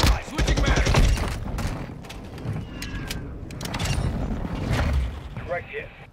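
Airstrike in Call of Duty Modern Warfare II, a burst of rapid impacts and booming blasts at the start, then rumbling debris and scattered cracks fading out over several seconds.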